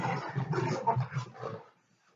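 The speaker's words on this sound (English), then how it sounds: "my dogs are playing there." Dogs playing nearby give low, scuffling grumbles and soft vocal noises in a busy burst that fades out after about a second and a half, with no talking.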